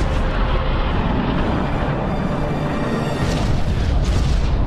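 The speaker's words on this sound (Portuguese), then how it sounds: "E essa explosão do míssil nuclear" A nuclear missile explosion in a Batman film booms as a loud, sustained rumble, dense low roar filling the whole stretch without break, with no voices.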